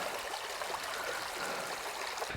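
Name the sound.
creek water flowing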